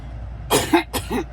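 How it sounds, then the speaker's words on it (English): Two quick, harsh allergy coughs close by, each a short burst followed by a rougher second hack. "still have this terrible cough"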